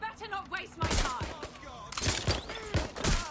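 Video-game gunfire cracks out in quick bursts over shouted character dialogue, close and punchy.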